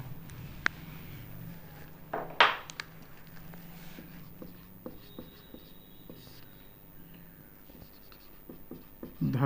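Chalk or marker writing on a board during a physics lesson on capacitance, a faint scratching with scattered taps and a louder stroke burst near the start, in a quiet room.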